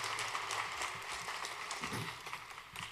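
Audience applause greets the new president of the Proctor Conference at a Saturday Forum keynote, a dense, steady clatter of many hands through the whole stretch, moderately loud and somewhat distant in a large hall.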